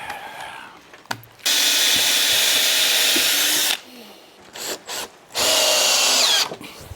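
A power drill boring through a workpiece while building a lift stand, whining loudly in two long bursts separated by a pause with short blips, with a faint voice at the start.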